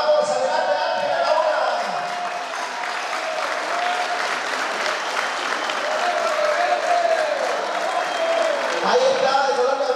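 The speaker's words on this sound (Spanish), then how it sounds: "El aplauso para la candidata número 3." Sustained audience applause in a banquet hall for a beauty pageant contestant, steady clapping from a large crowd lasting throughout, loud and dense with faint voices mixed in.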